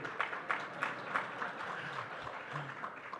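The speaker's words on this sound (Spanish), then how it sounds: "¿En serio se van a aplaudir?" Scattered audience clapping at a mining industry congress in Colombia, faint and somewhat distant, with a loose rhythmic pattern of claps under a low room murmur.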